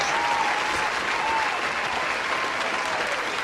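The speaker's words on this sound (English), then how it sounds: "So let's give a hand clap." Audience applause, a dense steady wash of many hands clapping at once, loud and sustained for the whole stretch with no talk over it.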